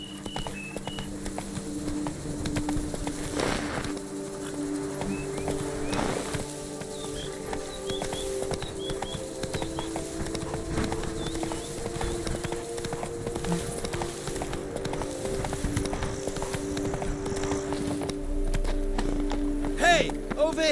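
A horse gallops in The Witcher 3, with rhythmic hoof clip-clops continuing steadily at moderate volume over a game soundscape, while a voice speaks at times.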